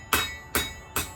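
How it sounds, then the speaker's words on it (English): A hammer strikes a blade being forged, with three sharp, ringing blows evenly spaced about half a second apart, close and fairly loud, each fading quickly. "See the find where the hammer hits the tip that you're trying to move forward."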